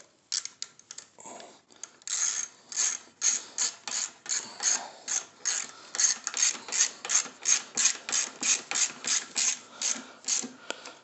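A screwdriver tightens screws on a small-engine carburetor, giving a steady run of close, rhythmic ratcheting clicks that speed up and grow louder over about ten seconds, with no talking.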